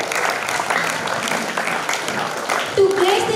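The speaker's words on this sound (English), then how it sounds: "Give a huge round of applause for yourself." Audience clapping at a school graduation ceremony, a steady wash of applause from a crowd throughout, with a voice speaking over it near the end.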